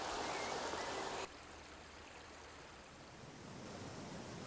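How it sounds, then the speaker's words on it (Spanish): Waterfalls rushing in a gallery forest ravine in an urban state park, a steady broadband roar that drops in level after a second and then holds as a continuous distant wash. "se puede disfrutar el sonido de sus hermosas cascadas"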